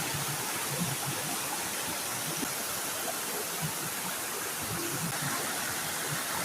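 Water rushing steadily at a spring source in Agbalogo, Makato, a dense continuous broadband wash of flowing stream with no pauses, fairly loud and close, no voices heard.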